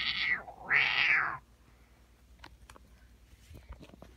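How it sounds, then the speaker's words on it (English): A cat meows twice in quick succession, close and clear, in a home with a pet cat, followed by near silence with a few faint taps and rustles. "Is that cat walking on her own?"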